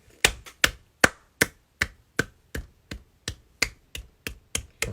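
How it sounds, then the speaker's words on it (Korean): One person claps slowly and steadily during an Instagram live stream, about a dozen sharp, close, dry claps at a regular pace, with nothing else heard between them. "박수."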